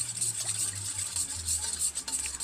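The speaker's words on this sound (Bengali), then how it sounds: "সব কিছু একসঙ্গে ভালোভাবে মিশিয়ে নেব" Close, continuous scraping and stirring of egg biryani in a kadai with rose water, kewra water and attar, a soft rhythmic rasp with no talking.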